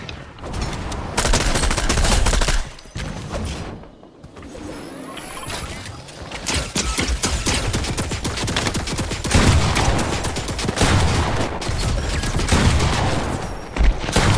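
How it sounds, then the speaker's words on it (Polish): Rapid turret gunfire in the Fortnite video game rattles on almost continuously for the whole stretch, loud and dense, with a brief lull in the middle before the bursts pick up again. "To tylko wieżyczka."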